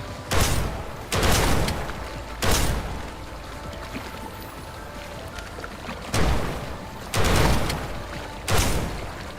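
Gunfire in the video game Snowbreak: Containment Zone, heard as loud, separate bursts of rapid shots with quieter game ambience between them.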